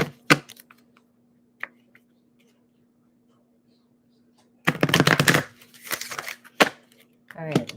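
Tarot cards being shuffled by hand in a quiet room, a few crisp riffles at first, then a longer burst of dense flapping, with soft whispered speech mixed in.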